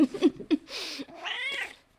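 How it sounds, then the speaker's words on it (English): A house cat meows several times up close, starting with short chirps and ending in a longer, drawn-out wail, loud and alone with no talk. "My cat needs some love right now"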